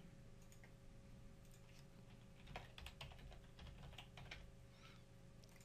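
Quiet keystrokes tap out a password on a computer keyboard in a short, irregular run of soft clicks against a faint steady hum.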